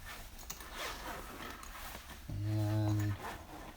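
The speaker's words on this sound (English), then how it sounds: "This particular one zips about 3/4 of the way open" A zipper runs along a compartment of a UTG urban messenger bag, one smooth, close pull of under a second that stands out loud against quiet handling rustle.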